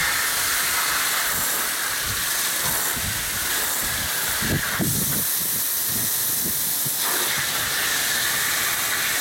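Water hose spraying city water from an Austin tap between the pleats of a dirty water-system filter, a steady close hiss running throughout.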